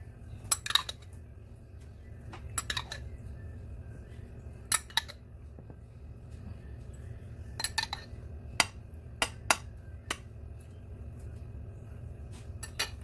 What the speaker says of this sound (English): we're going to spoon a little bit more sauce on each one.